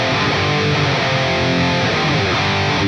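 A distorted electric guitar rings out through a Softube Amp Room studio room preset with slight pre-delay, roomy ambience, sustained rock chords blending into a dense, wide tone.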